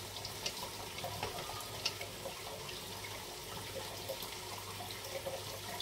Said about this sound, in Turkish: Bunlar da güzelce yıkayalım.